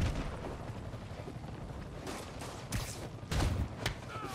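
Sniper gunfire in the Spider-Man PS4 video game: a few sharp cracking shots ring out over a dense, rumbling game backdrop, the loudest bursts landing toward the end.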